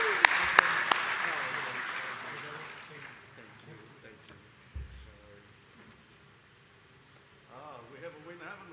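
Audience applause at a digital transformation summit, a burst of clapping that fades over the first few seconds into quieter room noise and murmured talk.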